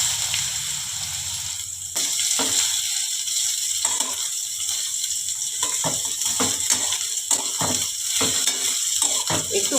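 Chopped beetroot frying with panch phoron in a pan, a constant oily sizzle broken by irregular scraping and clacking strokes as it is stirred, with no speech.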